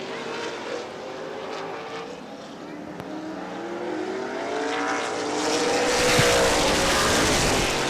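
Late model sportsman race cars roar around the track in a 30-lap feature, engines droning and rising in pitch as they pass, swelling louder toward the end, with a commentator's voice faintly underneath.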